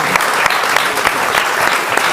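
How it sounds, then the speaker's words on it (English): An audience claps for the panelists at the close of a discussion on ocean acidification, a dense burst of hands filling the room without pause for the full two seconds. "can I have a round of applause for the panelists,"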